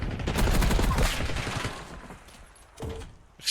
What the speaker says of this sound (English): Alright, here go the grenades.